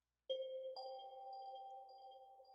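A synthesized bell tone rings out, then a second higher tone joins and both sustain smoothly with a lingering echo before cutting off.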